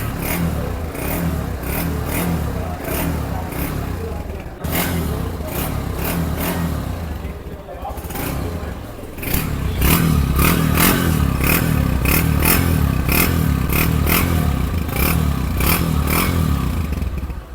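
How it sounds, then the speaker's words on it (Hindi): Close up, a Honda CG 150 motorcycle's exhaust silencer pops and clatters at idle in a steady rhythm, then swells into louder, sustained revving near the end. "सबसे पहले इसका सिलेंसर का साउंड चेक करते हैं"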